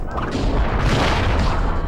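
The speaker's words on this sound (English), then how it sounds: "It like blew up the moment I was supposed to hit the platform, and I never touched it." A platform explodes in the Crash Twinsanity video game, a loud, dense rumbling blast with crashing debris that fills the whole clip without letup.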